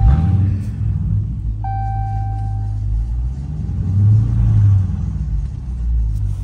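Dodge Scat Pack muscle car engine with a manual clutch, rumbling loudly and revving up as the gas is pressed, a steady deep roar swelling twice, with a brief high chime ringing partway through.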